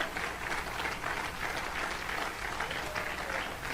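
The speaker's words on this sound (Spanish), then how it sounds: "Dele una ofrenda de palmas al Señor" A church congregation claps together as an offering to the Lord, a dense, even roar of applause holding steady throughout without talk.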